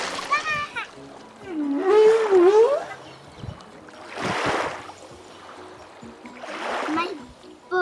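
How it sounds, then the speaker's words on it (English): A cartoon whale's call, a long wavering tonal cry that rises and falls, heard among splashing water and bursts of children's voices talking. "It's a whale."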